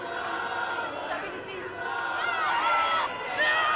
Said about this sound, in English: The crowd is cheering on Scotland.